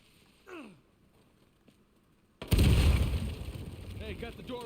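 A dynamite blast in the video game Uncharted 4, a sudden loud boom after a brief voice and quiet, followed by a rumbling, debris-filled decay lasting a couple of seconds.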